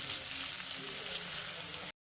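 Ingredients for chicken moharani fry in a pan, a short burst of dense, steady sizzling heard up close that cuts off abruptly.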